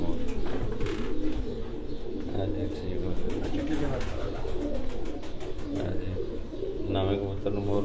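Racing pigeons coo at a Farran pigeon sports tournament in Gujrat, a steady murmur of soft low calls running throughout, while a man announces over them and voices carry in the background.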